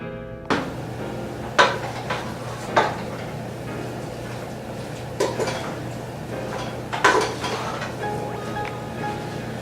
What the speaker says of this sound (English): I'm going to use my spoon now and combine everything together.